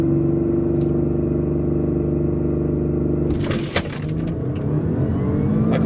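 A 2016 Audi A6 with an APR stage 2 tune sits idling with a steady low rumble, then launches hard at about three seconds into a loud, broadband roar as the engine revs, with a brief crack in the burst.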